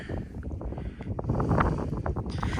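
Strong wind rushes over an open farm field during late barley sowing, a steady loud roar buffeting the microphone with no break and no voices.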